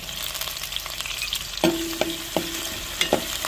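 Onions and green chillies fry in a pan for a potato rice dish: a steady, close sizzle, then four or five ringing spatula taps on the pan in the second half. No talk.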